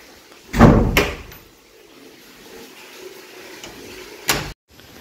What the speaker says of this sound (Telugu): I'm going to close the door.